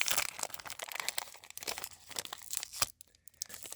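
A pack of Citgo baseball cards being torn open, with crinkly wrapper tearing and crunching in short bursts up close, then a brief pause near the end.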